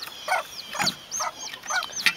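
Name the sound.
hen clucking with chicks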